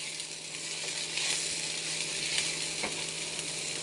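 Ivy gourd thoran with curry leaves and ground coconut stirred in a pan, giving a steady sizzling hiss with faint scraping and occasional clicks of the spoon, no talking.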